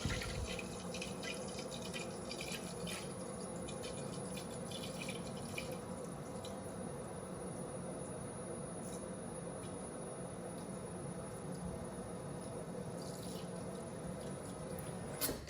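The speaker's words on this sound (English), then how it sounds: "I'm gonna fill up some water to boil the rice" Water runs steadily from a tap into a pot, a constant rushing hiss with faint clinks, continuing alone throughout.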